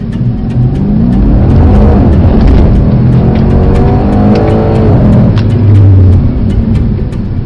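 A Mercedes-AMG C63 S launches and accelerates hard at Mercedes-Benz World UK, its loud close engine roaring and climbing through the gears in a sustained, rising growl with no talking.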